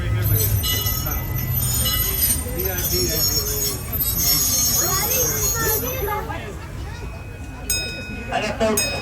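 Disneyland Railroad train on its Grand Circle Tour rumbles steadily on the rails with wheel squeal and clatter, a close, continuous rolling noise that persists alongside a voice announcement over the train's speakers.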